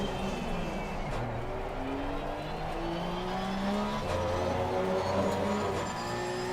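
Several race car engines in Assetto Corsa Competizione whine and drone continuously, pitches sliding up and down as cars pass close by, with faint tire noise and no talking.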